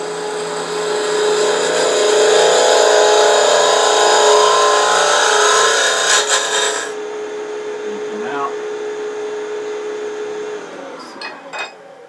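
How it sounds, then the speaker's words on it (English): A wooden box turning on a lathe is cut with a 3/8 inch spindle gouge, giving a loud, steady scraping whine for about seven seconds. The lathe then hums on quietly, with a few light clinks near the end. "I'm going to use my my 3/8 inch spindle gouge for that."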